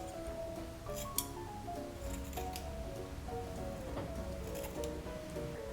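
Scissors snipping through hair during a home undercut, faint, close, repeated short cuts scattered unevenly over a quiet background.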